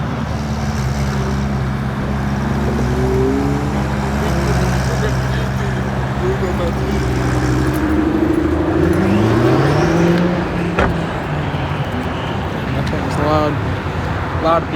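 Engines rumble and idle at a car meet in a Silicon Valley garage as several cars roll in, with a rising rev near the end, all under steady nearby talk.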